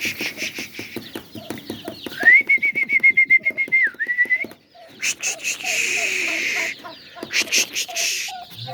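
Farm poultry, chicks and a turkey, peep and cluck in a rapid, near chorus with a sustained whistle-like call and repeated short calls.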